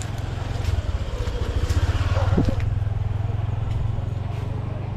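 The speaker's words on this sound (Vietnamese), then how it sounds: "Ở phía dưới ghe thuyền rồi vẫn chạy." Boat engines run on the river below the bridge at Bình Đông's historic communal house in Vietnam, a loud, close, low throbbing drone with a steady pulsing beat that swells briefly midway.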